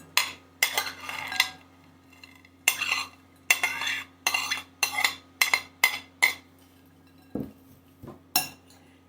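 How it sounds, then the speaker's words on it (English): Mushrooms mixed with chopped celery, onions and garlic in a bowl for marinated mushrooms give a series of close, distinct scraping and clinking strokes of a utensil, rhythmic bursts separated by short pauses, with no voices. "You just want to mix it all up well."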